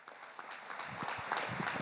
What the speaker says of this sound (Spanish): darle un fuerte aplauso a la Comisión de Fiestas